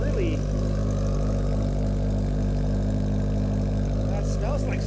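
A 1981 Yamaha XS1100 Midnight Special motorcycle engine runs at a steady idle, a continuous loud low rumble with a few brief bursts of other noise over it.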